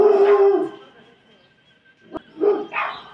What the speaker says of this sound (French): là, mon chien, il joue le jeu du chien méchant